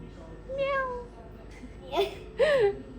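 A human voice imitates a cat, giving a few high, drawn-out meows, the last two louder and closer together.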